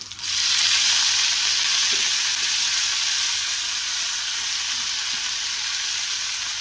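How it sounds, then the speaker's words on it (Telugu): Amaranth leaves frying in a pan after tempering, a loud, steady sizzle with light stirring scrapes, continuous throughout with no talking. "తాలింపు పెట్టి ఫ్రై అయిపోయిందండి తోటకూర కూడా వేసిస్తుంది ఇందులో"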